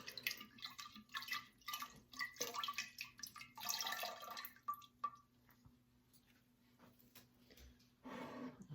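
Brewed tea dripping and trickling as tea bags are squeezed out over a container while making kombucha, quiet irregular drips and short bursts of liquid with a faint background hum.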